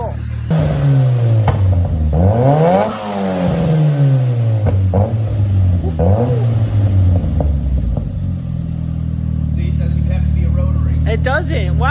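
A tuned Nissan Silvia S14 with an SR20DET engine is heard from behind on a dyno, loud repeated rev sweeps rising and dropping, then settling into a rumbling idle while people talk faintly.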